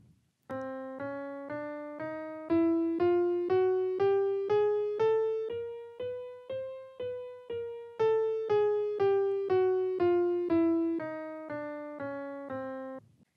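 A piano plays a chromatic scale, white and black keys, single notes climbing step by step, then descending back down, each note struck cleanly and evenly spaced, with no voices.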